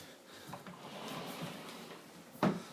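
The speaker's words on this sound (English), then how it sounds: "I can close this door" An apartment room door shuts once with a single sharp thud near the end, following a few seconds of soft room noise and faint movement.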